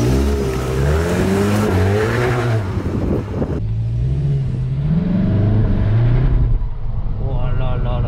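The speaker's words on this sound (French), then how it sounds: "je vais pouvoir me faire une accélération là, regarde" A Seat Leon Cupra gendarmerie car accelerates hard, its loud engine climbing in pitch through gear changes, briefly dipping at a shift before pulling again, heard from inside with a voice speaking near the end.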